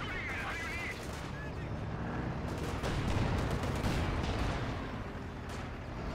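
A light artillery barrage rumbles through a Company of Heroes 2 battle, with dense overlapping blasts and distant gunfire throughout under game noise.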